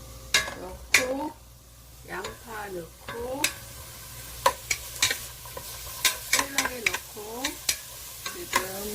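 Garlic sautéing in olive oil for lentil soup, with a soft sizzle under repeated quick stirring scrapes and utensil taps, close by, while a person talks intermittently.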